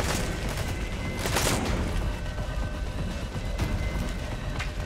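Enemy gunfire in the Metal Gear Solid V stealth game, a dense crackle of shots with a few sharper bursts standing out over steady rumbling background noise, no talk over it.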